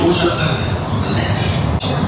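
An automated metro train on Shanghai's Line 14 rumbles steadily from inside the car, a loud continuous drone with a brief dip near the end, while a voice talks over it.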